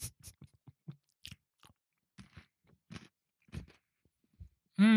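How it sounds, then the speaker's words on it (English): Someone chews crunchy, salty food with a crisp outside and a softer, paste-like middle, giving a run of close, irregular crunches and bites that ends in a short loud burst. "I'm not going to masticate as much this week"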